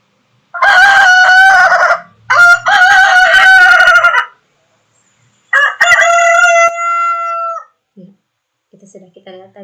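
A rooster crows loudly and close in three long, strained calls separated by brief pauses, followed by a few faint clucks at the end.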